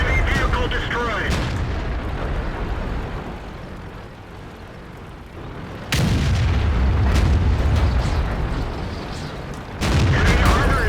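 Tank cannon fire and shell hits from a Tiger II in World of Tanks: heavy booming blasts and impacts over a constant battle rumble, with a sharp loud shot partway through and game voice callouts mixed in.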